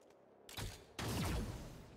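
Gunfire in the tactical game XCOM: Chimera Squad: two loud, close blasts land about half a second apart, the second trailing into a rumbling, mechanical tail.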